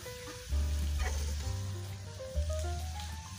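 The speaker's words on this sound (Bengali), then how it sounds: "দু পিঠি একদম লাল করে ভেজে নিয়েছি" Potato chops frying in hot oil, a steady close sizzle and bubbling that runs without a break, with a faint tonal hum in the background.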